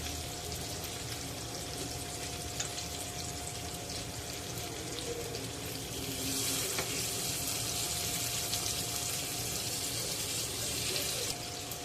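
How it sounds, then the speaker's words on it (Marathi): Pieces of halwa fish, a black pomfret, fry in hot oil on a flat iron tava for a crispy spiced Agri-style fry. A steady, close, continuous sizzle runs throughout with no voices. "तुकड्या तव्यामध्ये घालून झालेल्या आहेत आणि चार ते पाच मिनटं या तुकड्या खालच्या बाजूने फ्राय करून घेऊया"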